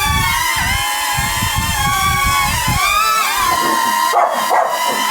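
Several dogs bark and yip continuously in a busy overlapping chorus, fairly close, with a few higher whines near the end.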